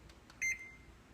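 Electronic kitchen timer set while kale chips bake in an oven at 350 degrees, giving a single short, moderately loud beep against a quiet room.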